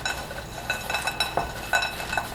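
A spoon clinks and scrapes against a bowl as a healthy snack with raisins is mixed, giving several short, close, bright knocks at an uneven pace with no talking.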